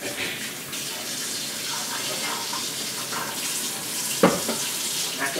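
Tap water runs steadily into a kitchen sink while a cutting board is washed, a constant close hiss with a brief clunk of the board near the end, no speech.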